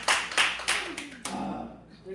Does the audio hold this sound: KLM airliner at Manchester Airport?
no